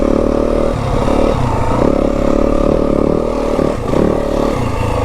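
Yamaha WR250F dirt bike ridden slowly over rocky single track in Kelly Canyon, its engine droning steadily and close with small throttle changes and clattering over rough ground throughout.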